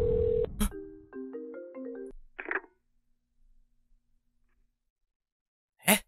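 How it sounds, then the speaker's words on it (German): A mobile phone ringtone plays as a short melodic tune for about two seconds, followed by a brief rustle, a long stretch of near silence, and a sharp loud burst near the end. "Ich habe ihn angerufen und zur gleichen Zeit hat hier ein Handy geklingelt."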